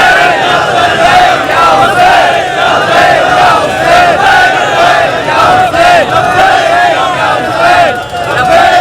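A large crowd at a majlis gathering chants slogans together, a loud, dense wall of massed voices shouting continuously with rising and falling surges throughout.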